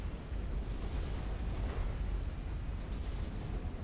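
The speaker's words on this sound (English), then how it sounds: "Oh no, that's torpedoes." Torpedoes explode in the naval battle of the strategy game Supreme Commander, a continuous deep rumbling of blasts at moderate level, steady throughout with no voices.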